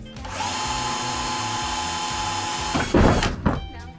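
A small two-stroke string trimmer with dry line buzzes steadily at close range, pitch wavering slightly, then revs up in two sharp bursts near the end.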